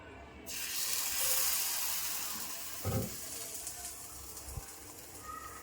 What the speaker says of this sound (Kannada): ಸೊ ಇದು ಒಂದೊಂದೇ ಕೋಟಿಂಗ್ ಕೊಟ್ಟು ಪ್ಯಾನ್ ಫ್ರೈ ಮಾಡ್ಕೊಳ್ಳೋಣ.